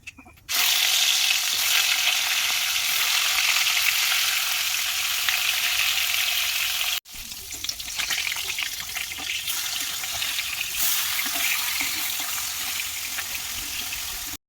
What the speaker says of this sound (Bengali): ওদিকে মাছ ভাজাটা হতে থাক